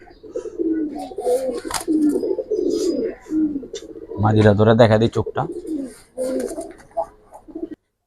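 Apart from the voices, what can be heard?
pigeons cooing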